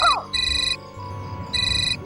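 A mobile phone ringtone plays in a Hindi television crime drama scene, its electronic melody sounding in repeated short bursts with brief gaps between them, loud and close over faint room noise.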